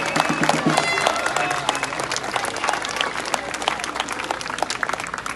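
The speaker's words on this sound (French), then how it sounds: "On peut applaudir très fort M." Loud, dense audience applause for Jacques Cheminade at a Les Patriotes political gathering in France, sustained clapping from a large crowd with a few voices calling out, steady throughout and easing slightly toward the end.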